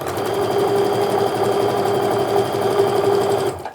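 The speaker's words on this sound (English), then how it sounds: "now I'm gonna sew this piece to the other side of my little center guy here" A sewing machine stitching quilt fabric pieces runs at a steady fast whirr, loud and close, for a few seconds before stopping abruptly.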